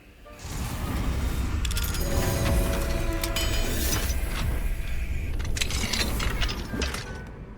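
In the Hogwarts Legacy video game, an Alohomora unlocking spell works a lock open with a sustained run of mechanical clicks, ratcheting gear turns and metallic clinks, loud and close for several seconds before fading at the end.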